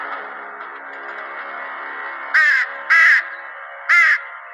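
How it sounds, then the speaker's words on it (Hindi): A crow caws three times in separate, loud, close calls over a steady droning background tone, with brief pauses between each harsh call. "राजन, मेरा कौवा कह रहा है कि वो कल सभा में भ्रष्ट कर्मचारियों और मंत्रियों का नाम बताएगा।"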